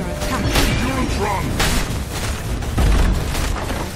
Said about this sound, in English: Radiant's bottom barracks has fallen.